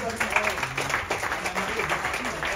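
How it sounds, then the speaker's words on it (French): An audience claps at a hypnosis stage show, with a dense, continuous wash of applause and voices chattering and calling out over it throughout. "on peut applaudir ici aussi"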